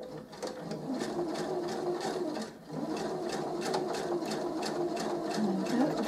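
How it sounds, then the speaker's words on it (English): A sewing machine stitches a half clam shell quilt block, running in a steady rapid whir that holds nearly throughout with a brief slowdown, close and fairly loud. "then I'm going to sew this"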